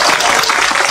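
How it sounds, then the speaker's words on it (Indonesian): A crowd applauds during an Islamic religious lecture in Indonesia, a brief, loud burst of dense clapping filling under a second. "tepuk sing banter aja sungkan-sungkan"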